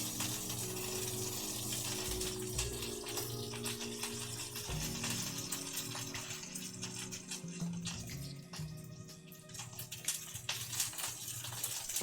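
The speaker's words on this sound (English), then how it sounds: "I turn the fan on high here now." A kitchen range hood fan runs on high above roasting beef, a steady broadband whoosh filling the room with some faint clatter mixed in and no talking.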